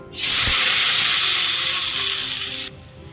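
Chopped tomatoes hit hot coconut oil with popped mustard seeds for a tomato curry, setting off a sudden, loud, close sizzle that hisses steadily for over two seconds and then cuts off.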